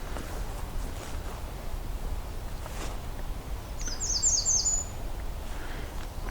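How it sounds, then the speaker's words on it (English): A single short, high series of bright American redstart notes rings out once against quiet outdoor background noise on an overcast morning. "That's a loud redstart."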